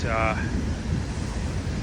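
Stormy ocean waves break on a west coast beach in a steady, loud wash of surf mixed with wind noise, with a brief whistling tone near the start.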